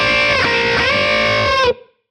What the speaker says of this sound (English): you're sort of bending up so that the G goes up 2 whole tones